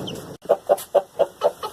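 Chickens, including baby chicks, are heard up close on a small homestead. Six short clucking calls come loud and evenly spaced in a steady rhythm.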